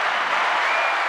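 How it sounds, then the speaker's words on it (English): Audience applauding an answer during a talk-show style discussion: a brief, steady burst of clapping, fairly loud and continuous, with no voices over it. "Give a round of applause for that answer."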